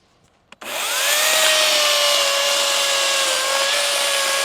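An electric chainsaw cuts almost all the way through a log outdoors, starting abruptly after a quiet moment and then running as a loud, steady, close whining buzz with no talking.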